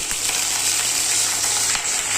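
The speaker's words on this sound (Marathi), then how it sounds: "कढीपत्ता चांगला कडकडला पाहिजे." Hot oil sizzles and hisses steadily as curry leaves fry in it, with scattered sharp crackles popping through; no one speaks.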